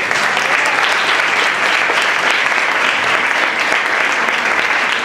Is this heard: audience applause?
yes